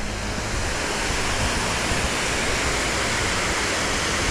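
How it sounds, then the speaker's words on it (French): The Cascade de la Barthe waterfall, set among basalt formations, pours in a loud, dense, unbroken roar of rushing water heard close by with no talk. "Très jolie cascade."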